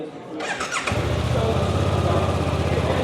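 A Suzuki GSX 800R motorcycle cranks briefly with a whirring starter, then catches and settles into a loud, steady, close-up idle with a deep rumbling exhaust note.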